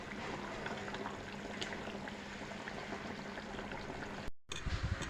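A pot of water at a steady rolling boil for a fish, potol and potato curry, giving a constant dense bubbling hiss that fills the clip, with a short gap near the end before the bubbling resumes.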